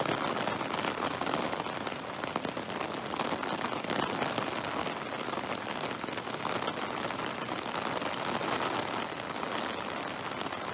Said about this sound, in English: Lots of rain coming down